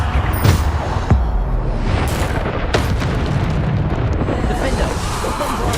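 Bombarda spell explosions in Hogwarts Legacy, deep booming blasts with sharp cracks and rumbling over continuous combat noise, and a voice talking through the fight.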